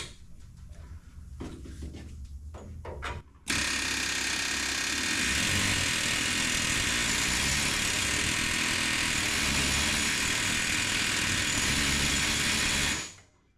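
A loud, steady mechanical hammering drone from a pneumatic planishing hammer starts abruptly after a few quiet seconds and runs continuously at full level before cutting off.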